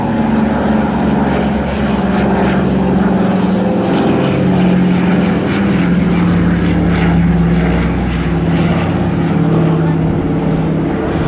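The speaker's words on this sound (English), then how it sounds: "Today is this iconic transport aircraft flown by modern day Royal Air Force counterparts and Royal Air Force transport pilots" An iconic propeller transport aircraft flown by Royal Air Force pilots at the Bournemouth Air Show 2014 drones loudly and continuously overhead, its engine hum steady and near, with crowd noise and indistinct voices mixed underneath.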